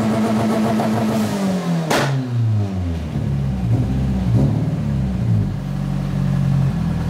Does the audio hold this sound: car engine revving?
yes